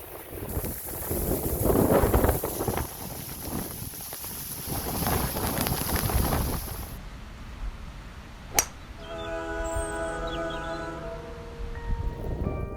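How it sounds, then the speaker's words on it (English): Steady wind gusts buffet the microphone with a low rumble for several seconds on a golf course in Cornville, Arizona, easing into a calmer outdoor stretch with a single sharp knock. "bit windy today"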